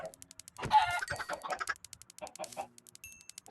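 Minecraft chickens on a game farm cluck in quick, overlapping bursts, a busy cluster of short clucks mid-clip that thins out into scattered calls, moderately loud with no speech.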